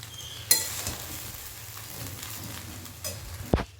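Fried rice with a spice mix stirred in a pan, a steady sizzle with scraping spatula strokes and a couple of sharp utensil knocks near the start and end, close and moderately loud, no voices.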